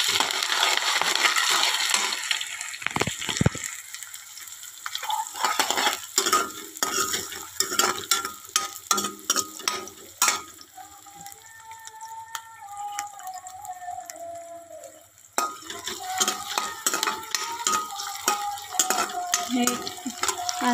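Tomato, onion, curry leaves and coriander stir and fry in a pan for a black pea curry, with a steady close sizzle and repeated scraping stirs that briefly pause mid-way before the frying resumes loudly.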